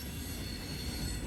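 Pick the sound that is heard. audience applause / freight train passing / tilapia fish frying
freight train passing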